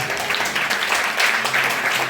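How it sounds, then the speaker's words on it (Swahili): Church congregation clapping together during a Sunday preaching service, a dense, steady wash of applause filling the room for a couple of seconds with faint voices mixed in. "Pigia Yesu makofi."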